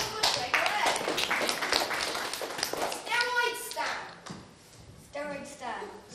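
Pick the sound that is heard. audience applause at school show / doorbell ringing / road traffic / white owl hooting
audience applause at school show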